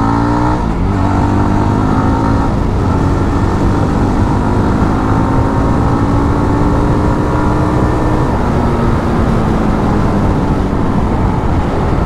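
A Yezdi Roadster motorcycle held in second gear lets out a loud, continuous engine roar with a rising pitch as the revs climb past the midrange, steady and close throughout with no talk over it.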